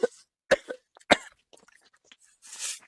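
A man gives several sharp, close coughs in quick succession, then clears his throat with softer rasping and a breathy exhale at the end.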